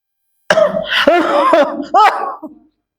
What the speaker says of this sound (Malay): Teruknya batuk